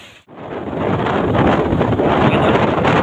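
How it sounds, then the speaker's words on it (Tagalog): Fierce typhoon wind blasts across the seashore, a loud, steady rushing roar that swells after a brief dip and buffets the microphone, with surf faintly underneath. "Grabe yung hangin."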